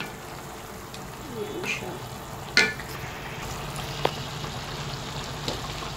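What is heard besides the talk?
stirring chicken adobo sizzling in pan after adding soy sauce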